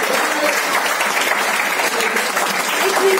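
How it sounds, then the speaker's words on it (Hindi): An audience at a Women's Day gathering applauds for the women present, a dense, steady clapping that holds at full strength for the whole span. "तालियां होनी चाहिए महिलाओं के लिए"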